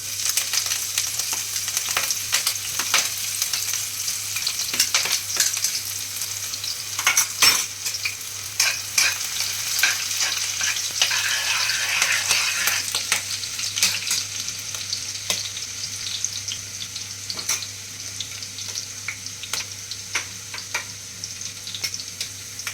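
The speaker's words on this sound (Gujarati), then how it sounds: "તેલ આવી ગયું છે, આપણે હવે લસણ નાખશું પહેલાં" Garlic sizzles and crackles in hot oil while being stirred, a steady close frying hiss with scattered spoon scrapes, for a Kathiyawadi tempering with spices. No one speaks.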